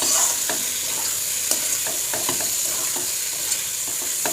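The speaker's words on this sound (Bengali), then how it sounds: "আমি এখন জল দেব না, এমনি আমি শুকনো নেড়ে নেবো, ভালো করে কষে নেব।" Ground roasted spices are dry-stirred in a hot pan for a cauliflower dal, giving a steady close sizzle with a scatter of sharp scraping clicks from the spoon and no talk.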